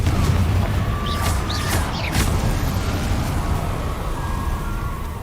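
A Confringo blasting spell explodes in Hogwarts Legacy amid a dense rumbling game soundscape, with sharp whooshing bursts and crackles near the middle over constant low booming.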